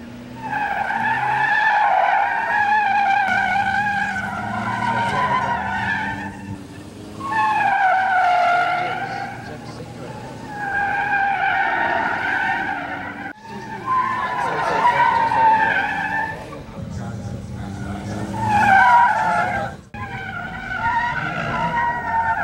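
Gymkhana race cars from the India and Indonesia teams at a 2005 international event squeal their tires in about five loud, repeated bursts, with engine noise between and a faint voice underneath.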